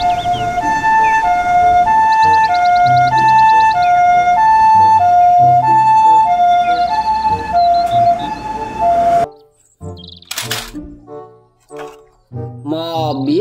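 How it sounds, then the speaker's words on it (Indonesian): A toy ambulance siren wails in a steady two-tone electronic pattern, loud and close, then cuts off into brief chirps and beeps. "Mobil ambulans."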